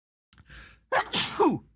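A person sneezes up close, with a short sharp intake of breath first and then a loud, breathy burst that trails off into a soft exhale.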